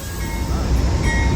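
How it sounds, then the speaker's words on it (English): An Amtrak Coast Starlight train with P42 locomotives arrives at Oakland Jack London Square, a loud, steady rail rumble close by with a faint horn-like tone in the mix. "This is the Coast Starlight, train number 11, P42 DC number 7, and P42 number 142."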